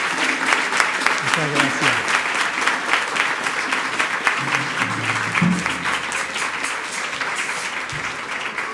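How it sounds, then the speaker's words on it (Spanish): Church congregation gives the priest a sustained round of applause at a Sunday Mass, steady clapping filling the room while a voice speaks over it. "El Padre se merece un aplauso de mucha fuerza, cariño y aprecio"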